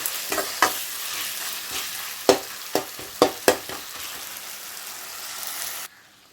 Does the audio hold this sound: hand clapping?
no